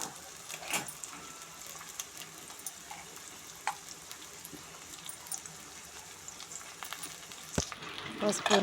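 Onions and green chillies frying in oil in a kadai give a continuous soft sizzle with scattered clicks and scrapes from stirring, close but fairly quiet.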